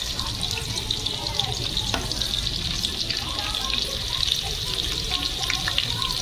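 Coarsely crushed garlic dropped into hot oil for a rassa curry sizzles and crackles steadily in a pan, a continuous close frying hiss with small pops throughout.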